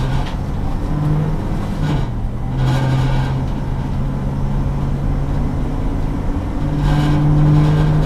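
A 1992 Dodge ambulance with a carburetor accelerates uphill at full throttle, a steady loud engine drone with a low hum that holds throughout and swells slightly near the end.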